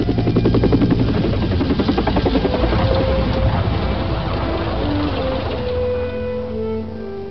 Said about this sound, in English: The unmistakable sound of an Army helicopter.